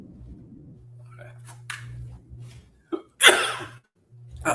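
A single sharp human sneeze bursts out near the microphone after a quiet stretch with a low hum and faint breathing, followed by a short trailing sound.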